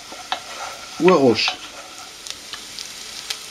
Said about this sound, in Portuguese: mexemos com a colher de madeira e esperamos mais um bocadinho para introduzir